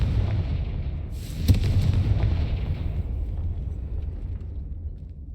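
A Confringo spell explodes in Hogwarts Legacy, a muffled booming burst swelling over a steady low rumble and fading into a dull background roar, with no speech.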